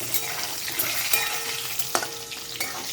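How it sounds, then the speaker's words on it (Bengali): An egg frying in a pan on a home stove gives off a continuous close sizzle, with a couple of sharp spatula scrapes and taps breaking through, and no one speaking. "এই যে ডিমটা ভাজছি"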